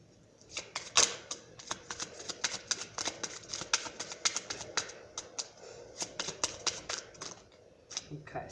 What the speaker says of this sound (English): Let me move these cards over because I need room over here.